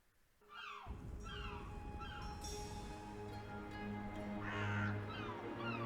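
A crow in the video game Dreamfall Chapters caws repeatedly in short rasping calls over a steady ambient game soundscape, clear and fairly close.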